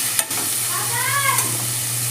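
Onions and green chillies frying in a pan for chicken keema balls gravy, a soft steady sizzle with a brief clatter at the start, plus a low hum and faint whining tones underneath.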